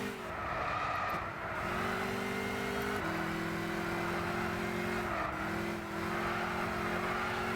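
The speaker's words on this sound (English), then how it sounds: "That tyre squeal though." Racing car in Gran Turismo 6 with a steady high engine drone and a tyre squeal mixed in. The pitch steps between gear changes, fairly loud and alone with no talk.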